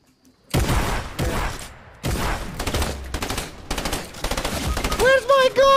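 Loud bursts of rapid automatic gunfire from the video game Fortnite crack in close succession, several separate volleys of fast shots, with a brief musical game tone at the end.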